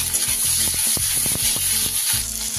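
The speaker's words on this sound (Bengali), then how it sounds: "পেঁয়াজটা তাড়াতাড়ি ভাজা হয়ে যাবে।" Chopped onion fries in mustard oil in a kadai with a loud, continuous sizzle, punctuated by a series of quick stirring scrapes and knocks.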